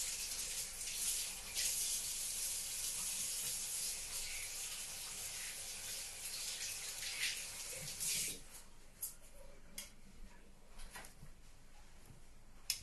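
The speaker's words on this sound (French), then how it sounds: "je vais juste me rincer les mains" Tap water runs steadily as hands are rinsed inside a camper van, a broad continuous splash for about eight seconds before it cuts off, leaving a quiet room with small rubs and clicks.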